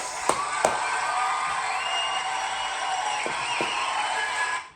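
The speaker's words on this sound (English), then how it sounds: "I'm going to give myself a fucking cheer" A crowd cheers and whoops in a steady, sustained roar that fills the space, with a couple of sharp claps or bangs near the start and more midway, before cutting off abruptly at the end.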